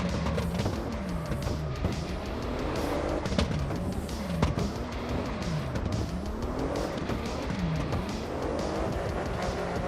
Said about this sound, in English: At least with this car, I'm drifting.